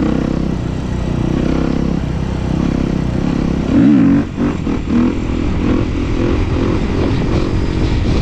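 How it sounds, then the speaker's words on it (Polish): A motorcycle engine drones loudly and close with a steady rumble, briefly surging and dropping around the middle as it comes down from a wheelie, then settling into a lower, slowing tone. "przy końcu, to motocykl zwalnia"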